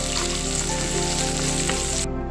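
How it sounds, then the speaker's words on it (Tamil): Cut onions sauté in hot oil in a pan, a loud, dense, continuous sizzle close up with a faint scrape of stirring and no speech. "எண்ணெய் நல்ல சூடானதும் கட் பண்ணி வச்சிருக்கிற வெங்காயத்தை சேர்த்துக்கலாம் சேர்த்து அதை நல்லா வதக்கி விட்டுக்கலாம்"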